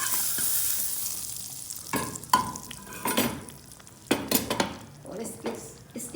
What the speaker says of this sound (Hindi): अभी मैं इसमें डालने लगी हूँ मिर्चें।